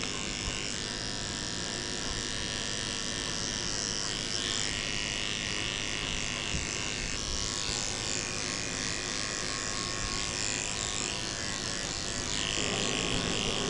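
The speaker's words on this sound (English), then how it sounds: "I'm shaving her out a little potty path because when they go potty, it gets stuck in their hair" Electric clippers buzz steadily and close up while shaving a dog's fur during grooming, a continuous even hum lasting the whole stretch with slight shifts in pitch as the blade moves through the coat.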